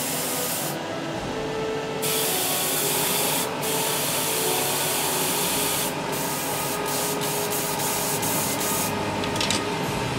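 An airbrush sprays paint onto a Panther tank model for Bolt Action pre-shading, giving a loud, steady close-up hiss in long bursts broken by a few brief pauses.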